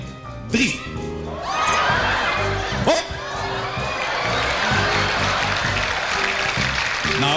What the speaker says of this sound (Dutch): dames, applaus